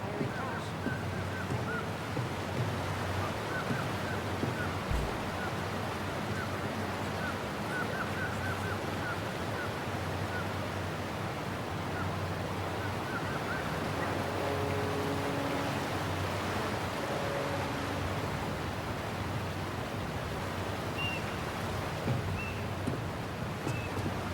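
A steady low engine drone and rushing water noise of a boat moving along in the video game Tell Me Why, with faint wind and occasional soft tones over the top.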